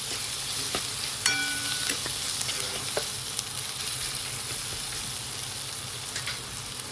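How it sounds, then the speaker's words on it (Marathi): Green chickpea bhaji with crushed roasted peanut powder roasting in a pan gives a steady crackling sizzle, close and fairly loud, with a few light clinks of a spoon against the pan and no talking. "याला मस्तपैकी आपण भाजून घेऊया."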